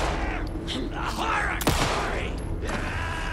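Saga's pistol in the Alan Wake 2 video game firing, a single sharp loud shot cracking through busy game ambience with a dense backdrop of in-game noise around it.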